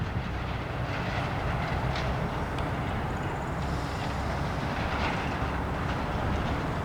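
CN locomotives 5436 and 5441 lead an eastbound local freight train through Battle Creek, Michigan, a steady heavy rumble and rolling wheel noise close by, continuous throughout with faint clicking.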